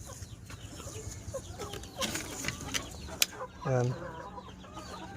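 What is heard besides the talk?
native chickens clucking in coop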